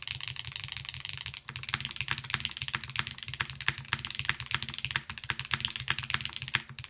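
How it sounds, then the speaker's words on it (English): Fast, steady typing on a Haven60 mechanical keyboard with its gaskets removed and a heavy copper bottom piece, dense close-up clacks with a deep thocky tone and no talking. "I do think this board has a naturally deeper tone simply because of the big giant copper piece on the bottom."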